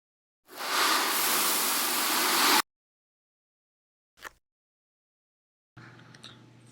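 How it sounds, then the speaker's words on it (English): Sand poured from a bucket and layered with ordinary human footsteps for a dinosaur sound effect: a steady, dense two-second hiss of pouring grains, a single short step-like thud after a pause, then a fainter rustling patch at the end. "I combined the sound of sand being poured from a bucket with regular human footsteps"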